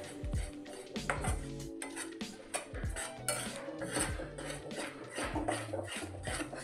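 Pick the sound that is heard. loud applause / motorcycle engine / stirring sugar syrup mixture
stirring sugar syrup mixture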